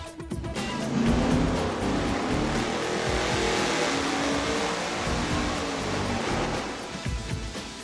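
A 1,000 HP engine revs hard through a MagnaFlow straight-through muffler, giving a loud, sustained roar that holds near full throttle for several seconds before easing slightly at the end.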